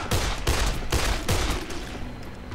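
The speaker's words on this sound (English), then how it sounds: "flamethrower pistol" Three loud, evenly spaced bursts from a flamethrower pistol in Dead Island, each a broad whooshing blast that decays briefly before the next, close and dominant with no talk.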